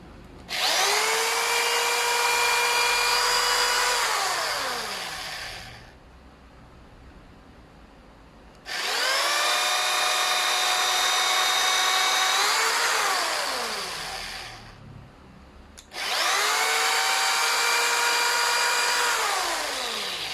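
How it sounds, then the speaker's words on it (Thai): A power drill bores into a plastic Canon printer cartridge, whining in three long bursts separated by short pauses, pitch rising as it spins up and dropping as it winds down. "ผมก็ใช้สว่านเจาะนะครับ"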